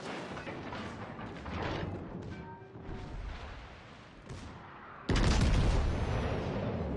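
Warship guns firing in World of Warships Legends, with booming salvos and rumbling battle noise building to a sudden heavy broadside blast near the end that stays loud and sustained.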